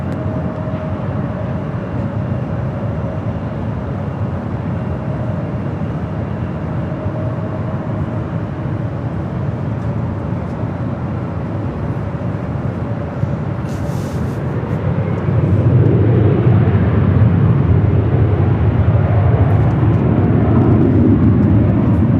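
A jet airliner at Los Angeles International rolls for takeoff on runway 24 left, its steady broadband roar holding level at a distance before swelling louder and deeper near the end.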